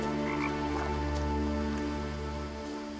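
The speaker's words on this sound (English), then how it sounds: "There's a very loud frog in here." A loud frog croaks in the video game What Remains of Edith Finch, a deep continuous resonant croak droning steadily over soft rain-like ambience.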